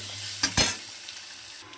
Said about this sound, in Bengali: আলু আর পেঁয়াজটা দিয়ে দিলাম, এটাকে একটু ভাজা ভাজা করব